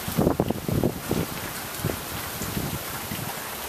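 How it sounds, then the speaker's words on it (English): Heavy rain pouring down during storm Irene, a dense steady hiss with gusty rustling bursts and wind buffeting the microphone, close and fairly loud throughout. "It just started downpouring."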